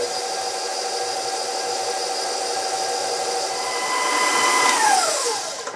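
An electric mixer whirs steadily as it beats red velvet cake batter with flour, loud and continuous, its pitch dropping slightly as it slows near the end.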